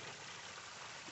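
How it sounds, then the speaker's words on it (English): Waterfall pouring into a natural swimming pool outdoors, a steady broadband rush of falling water, faint and continuous with no break. "Here's the waterfall on our natural swimming pool."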